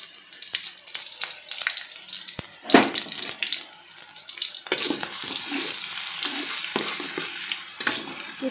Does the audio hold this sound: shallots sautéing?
yes